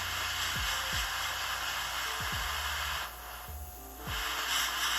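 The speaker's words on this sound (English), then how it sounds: "I'm just gonna start spraying." Steady airbrush hiss spraying nails continuously, with a brief drop in the airflow midway and faint low mechanical clicks and hum underneath.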